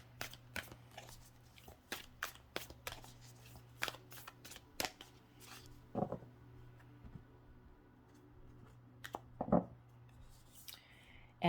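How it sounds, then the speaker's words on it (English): Tarot cards shuffled and handled close by, producing a quiet, irregular run of crisp snaps and riffling clicks over a low steady hum, with a few louder flicks scattered throughout. "let's pull some tarot for you"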